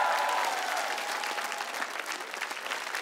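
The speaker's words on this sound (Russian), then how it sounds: "Аплодирует стоя сам председатель нашему белому орлу!" Standing ovation from a studio audience for a masked singer on a TV singing contest: dense, steady applause filling the space, with a faint sustained tone early on and no talking.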